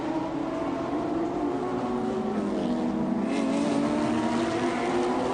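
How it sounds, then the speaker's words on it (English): Race cars at the Grand Prix de Trois-Rivières street circuit, engines droning steadily at close range with a rising whine as revs jump sharply over bumps, running continuously with no voices. "Cool to hear these cars when they hit those bumps. It just throws the cars up in the RPM pretty quickly."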